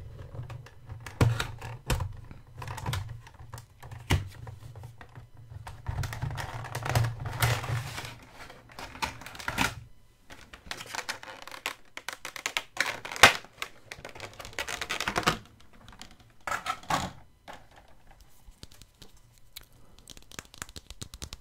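A Funko Pop figure is unboxed: cardboard and plastic packaging crinkles, tears and taps in close, busy bursts with short pauses, and no voices.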